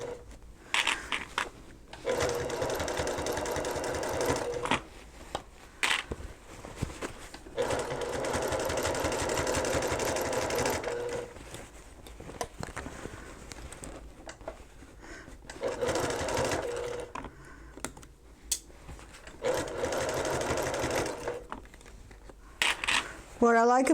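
Sewing machine stitching a reversible bucket hat, close bursts of rapid whirring that stop and start several times, with a person talking during the pauses.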